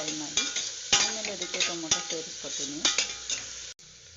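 Tomato fries in oil in a pan beside onion, a steady close sizzle with rhythmic spatula scrapes and stirring knocks, cutting off abruptly near the end, with no voices.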